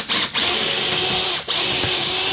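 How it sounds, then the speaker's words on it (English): A power drill bores pilot holes into wood, a steady high whine held for over a second, briefly dipping twice as the bit eases off, close and loud with no talking. "So now we're drilling pilot holes because we have to come in through the base."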